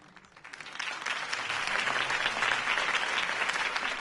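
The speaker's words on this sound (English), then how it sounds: "If only Mr. Wayne, my campaign's largest backer, could have heard that applause" Crowd applause follows a campaign speech for a mayoral candidate in the Batman Telltale video game. It starts quietly and swells within the first second into steady, dense clapping from a large audience that holds until the end.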